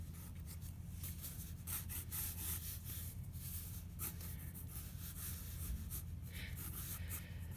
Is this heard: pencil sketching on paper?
yes